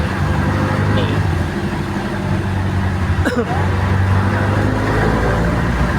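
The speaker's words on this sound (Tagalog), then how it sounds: "nakasakay ako sa jeep." Riding inside a jeepney in traffic gives a steady engine rumble and road roar from within the vehicle. A short sharp rattle cuts in midway, and a voice talks over the noise.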